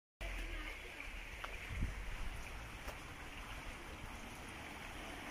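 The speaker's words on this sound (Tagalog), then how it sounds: "So, meron ditong ilog." A small stream flows in Vienna as a faint, steady rushing of water heard from a short distance, with a couple of soft knocks and no talking.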